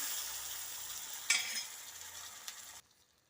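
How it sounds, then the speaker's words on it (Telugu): Curry leaves hiss and crackle in hot tempering oil for cucumber dal (dosakaya pappu), a steady sizzle with one sharp pop midway, cutting off abruptly near the end. "కరేపాకు వేసుకుంటే ఆ వేడికి వేగిపోతుందండి"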